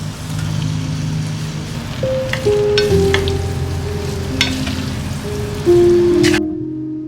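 Onion, tomato puree, spices and vegetables sizzle in a pan with ginger and garlic. A steady frying hiss carries along with scattered utensil clinks and stirring scrapes, and a few tonal beeps sound near the end.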